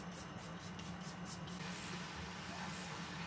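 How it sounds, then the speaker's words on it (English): Charlotte Tilbury Airbrush Flawless setting spray misted close by in a quick series of short pulsing bursts, then a steadier hiss fading into low background hum. "And then I'm just gonna set them. Charlotte Tilbury Airbrush Flawless Setting Spray."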